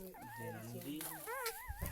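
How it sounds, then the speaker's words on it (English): Puppies whimper and yip in high, wavering cries close by, heard together with a person talking over them. "Now you can see the puppies."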